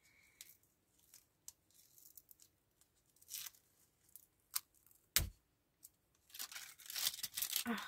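Packing tape rips off a parcel in short bursts, quiet scattered tearing at first and then a louder stretch of peeling and crinkling toward the end.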